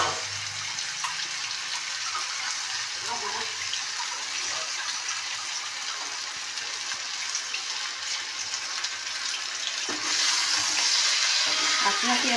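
Water is poured into shrimp frying in a pan, a loud continuous sizzling hiss that surges toward the end as the water hits the hot oil.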